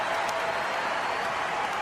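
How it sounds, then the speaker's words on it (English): A full tennis stadium crowd in Auckland cheers and applauds, a dense steady roar of clapping and voices heard from a distance. "And that crowd are going nuts."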